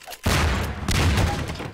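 A burst of heavy cannon fire booms out in a Garry's Mod multiplayer battle, with a sharp onset and sustained deep rumbling blasts over the next second and a half.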